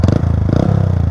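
Stock exhaust of a Honda Grom motorcycle idling up close, a steady, loud, throbbing low putter with even rapid pulses and no voices over it.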